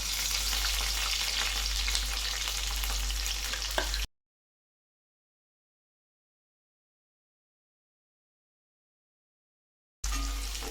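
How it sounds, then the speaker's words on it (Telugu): Onions and green chillies frying in hot oil, a dense close sizzle with stirring scrapes for about four seconds before the sound cuts out to silence, then returns briefly at the end. "ఇప్పుడు ఆనియన్స్, మిర్చి వేసేస్తున్నాను."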